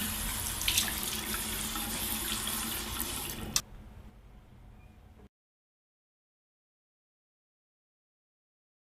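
Tap water runs steadily and loudly into a sink while a face is rinsed after night-time makeup removal, then drops to a quieter trickle before stopping abruptly, with no talking.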